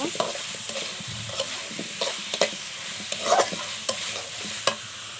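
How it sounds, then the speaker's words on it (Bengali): A spoon stirs chickpea and gourd curry in a sizzling pan, with repeated scraping knocks at an uneven rhythm over a steady low frying hiss, close and clear, with no voices. "এখন হচ্ছে ভালো করে নেড়ে দেব।"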